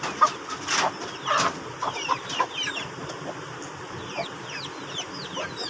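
Mottled bantam hens on a fancy hen farm clucking close by in short scattered bursts, with a few brief louder calls among softer chatter from the flock.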